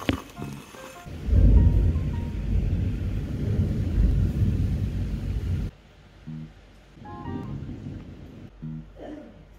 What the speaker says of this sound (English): here's some of that footage of the thunderstorm.